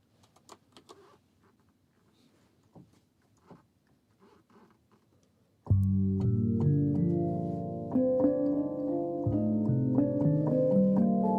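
A hand pan starts after quiet rustling and faint taps, ringing out in struck, resonant metallic notes with long sustain that overlap into a warm, sustained harmony, played close and loud.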